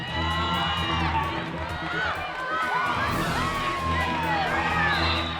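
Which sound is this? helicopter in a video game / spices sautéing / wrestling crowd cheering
wrestling crowd cheering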